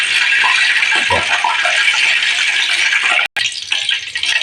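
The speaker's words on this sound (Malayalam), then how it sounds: "വെളിച്ചെണ്ണയിൽ വെള്ളമുണ്ട്, അതുകൊണ്ട് ഇങ്ങനെ പൊട്ടിച്ചെടുക്കുന്നത്" Water trapped in hot coconut oil spatters and crackles in a dense, continuous sizzle with scattered sharp pops, loud and close, with a brief break near the end.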